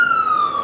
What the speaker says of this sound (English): Hopefully this siren will pass soon.